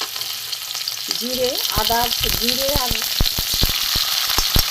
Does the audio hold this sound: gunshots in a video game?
no